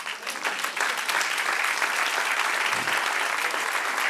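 Steady, dense applause from a church congregation during a pastor's sermon, filling the room evenly from start to finish with no break and no voices on top.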